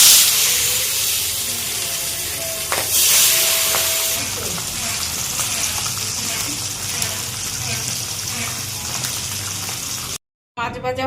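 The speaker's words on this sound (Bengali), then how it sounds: "মাছে নুন, হলুদ দিয়ে মাখিয়ে নিচ্ছি। এবার তেলে দিয়ে দেব।" Stinging catfish rubbed with salt and turmeric frying in hot oil, a steady close hiss and sizzle with brief louder spatters, cutting out abruptly near the end.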